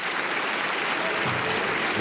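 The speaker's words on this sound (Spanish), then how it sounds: "ovación de pie" A large crowd gives a standing ovation in the French National Assembly, applauding loudly and continuously, a dense sustained roar of clapping with no break.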